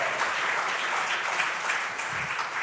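Sustained audience applause at a gender programme launch event, an even wash of many hands clapping throughout without a break.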